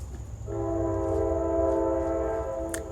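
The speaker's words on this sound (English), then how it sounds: "And there's that train again." A train passing in the distance, sounding a long sustained horn blast that dominates the clip, fairly loud against quiet surroundings with a low rumble underneath.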